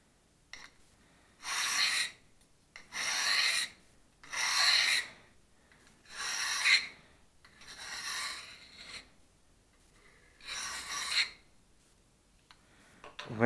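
A kitchen knife is drawn along a sharpening steel in a household setting. Six even rasping strokes sound up close, each lasting about a second and separated by short quiet gaps.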